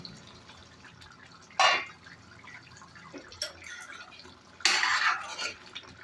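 Metal lid lifted off a cooking pot of cashew prawn masala, a sudden metallic clank followed by lighter clinks and a second louder rattle of the lid, close and without speech.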